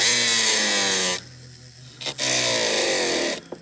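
A rotary burr cuts notches into a ring's prong head, running at gentle speed in two high-pitched whining bursts. A short pause separates the bursts, and the second one winds down gradually.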